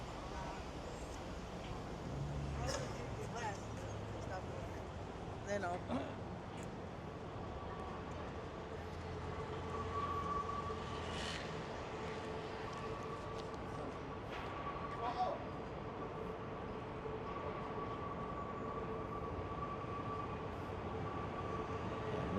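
A New York City subway train rumbles steadily at Queens Plaza in Long Island City, a long low drone with faint squeals and clatter while people talk nearby.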